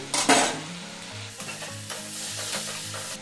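Vegetables and chopped tomato fry with spices in a pan, with a loud stirring scrape at the start and then a steady sizzle broken by rhythmic stirring scrapes.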